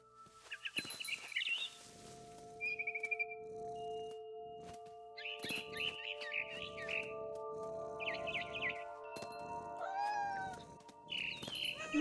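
A cat meows repeatedly in the video game What Remains of Edith Finch, with bird chirps and tweets mixed in over soft ambient game sound and no talking.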